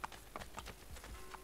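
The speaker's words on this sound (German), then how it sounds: "jetzt reiten wir mit dem Pferd nach da hoch" A horse in Assassin's Creed Brotherhood trots with quick, quiet clip-clop hoofbeats in a rapid rhythm, faint and brief.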